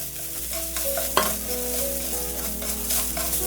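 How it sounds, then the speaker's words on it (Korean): Onions stir-fried over high heat for consommé: a continuous close sizzle with scraping strokes of a utensil across the pan, one sharper clack near the middle, steady background hum, no voices. "센 불에서 계속적으로 볶아주시면 되겠습니다"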